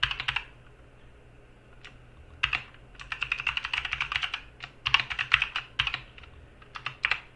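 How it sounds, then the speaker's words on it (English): Typing on a computer keyboard during a coding tutorial: bursts of quick, close clicking keystrokes with short pauses between runs, alone with no talking. "I'm going to type it in chat."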